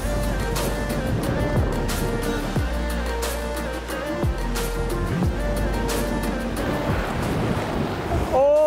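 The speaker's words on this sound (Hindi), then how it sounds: "सामने आप पानी का करंट देखो।" Cold mountain river in the Sangla Valley near Rakcham and Chitkul, rushing close by in a loud, steady roar of churning water. The current keeps a constant wash throughout, with brief gusts of wind noise.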